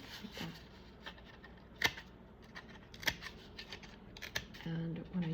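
Scissors snipping paper for a handmade bird ornament, a few sharp, close cuts spaced irregularly over soft rustling, with a person talking quietly at the end.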